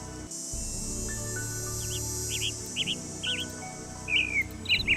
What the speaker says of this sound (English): There's that owl again.